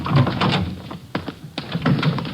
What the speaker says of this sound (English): Just a minute, I'll get to the door here.